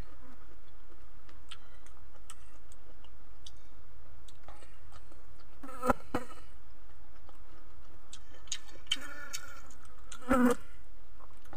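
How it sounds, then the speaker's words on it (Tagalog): Houseflies buzz around a pot of boiled meat and vegetables at a rural Philippine meal, a faint, intermittent drone with scattered clinks and chewing sounds and a few soft voices. "Daming langaw."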